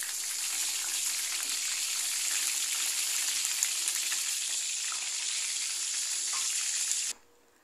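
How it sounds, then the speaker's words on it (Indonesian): Steady, bright sizzling of salted fish frying in hot oil in a wok, close and continuous, ending abruptly. "Siapkan wajan jika minyaknya sudah panas, digoreng dulu ikan asinnya."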